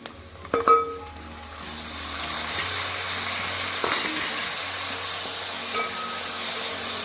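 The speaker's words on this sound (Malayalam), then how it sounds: "ഉള്ളി ഒരു പകുതി മൂത്ത് വന്നിട്ടുണ്ട് അപ്പോൾ ഇനി ഇതിനകത്ത് നമുക്ക് ഏറ്റവും പ്രധാനപ്പെട്ട ഐറ്റം നമ്മുടെ തക്കാളി ചേർത്ത് കൊടുക്കാം" Tomatoes go into a pan of half-browned onions and curry leaves for tomato rice. A couple of close clanks give way to a loud, steady frying sizzle and hiss that fills the rest, with no talking.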